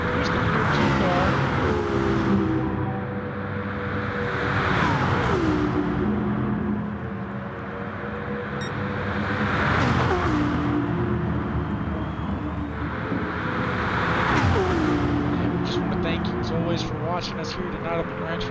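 Race cars in Gran Turismo driving through laps with engines rising and falling in repeated sweeping passes, loud and continuous, while a commentator talks over the engine noise.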